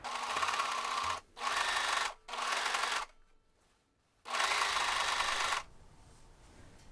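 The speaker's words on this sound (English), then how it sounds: "Serge or zigzag stitch these seam allowances together." A sewing machine serges or zigzag stitches seam allowances on a milkmaid top or dress, running in four loud, close bursts with short pauses and a quieter gap between.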